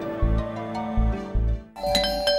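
A doorbell chimes over and over in quick succession inside a house, a bright ding-dong repeated several times with resonant tones and a short dip before the last rings, and no voices.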